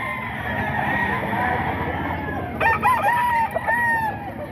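A ball stag gamecock crows loudly close by, its drawn-out call rising and falling in a couple of phrases, while clucking fowl and farmyard noise carry on underneath.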